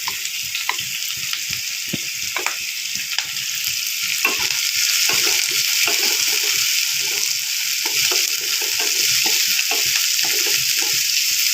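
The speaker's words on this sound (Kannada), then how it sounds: "ಆ ಎಣ್ಣೆ ಒಳಗೆ ಸ್ವಲ್ಪ ಬಾಡಿಸ್ಕೊಬೇಕು ಆಮೇಲೆ ಹಸಿಮೆಣಸಿನ್ಕಾಯಿ ಕರ್ಬೇವಿನ ಸೊಪ್ಪು" Green chillies and curry leaves sautéing in oil with onion for masale chitranna, a constant sizzle that grows louder midway, punctuated by frequent quick stirring scrapes, no voices.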